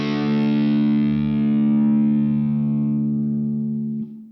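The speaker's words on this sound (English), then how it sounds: "And this is what a perfect fifth sounds like." A heavily distorted electric guitar holds a perfect fifth power chord, ringing loud and steady for about four seconds before stopping abruptly, with no speech over it.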